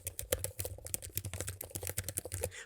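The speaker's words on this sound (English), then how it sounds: "Now, let's go ahead and take a look at the keyboard. It has that nice, crisp, more mechanical sound." Rapid, crisp keystrokes on a laptop keyboard with a clicky, mechanical-style feel, typed quickly in a steady close-up patter with no voices.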